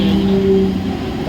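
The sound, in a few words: Mumbai local train arriving at the platform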